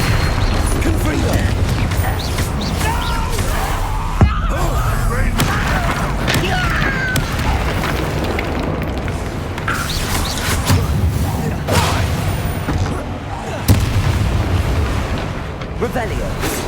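Confringo blast spells in the video game Hogwarts Legacy erupt as repeated booming explosions within a dense, continuous battle din, with sharper blasts standing out at a few points.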